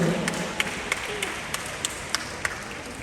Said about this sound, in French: Est-ce qu'on peut les applaudir très fort?